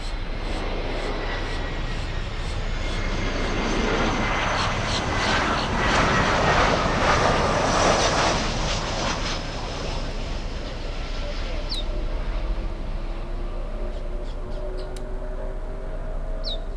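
Sunrise Airways airliner operated by Global X at Miami airport, a steady broadband jet engine roar that swells and fades over about seventeen seconds, heard from a distance with faint chirps above it.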